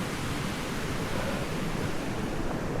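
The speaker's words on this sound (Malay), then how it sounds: "Belah kiri ni ada sungai." A river beside a hiking trail produces a steady, broadband rushing wash of flowing water, continuous and moderately loud, with no voices.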